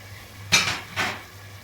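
A metal spoon knocking against a pot while spices and water are stirred for pea pulao, two distinct clanking scrapes about half a second apart over a low steady hum.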